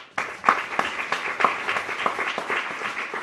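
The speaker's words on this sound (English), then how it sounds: "A big round of applause for Warren." Audience at an interfaith dialogue event at NSW Parliament applauding for Warren, a modest round of distinct hand claps, fairly close, starting abruptly and continuing steadily.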